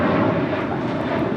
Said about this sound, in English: This is Alaska Airlines 1315 departing to Portland on a 737-800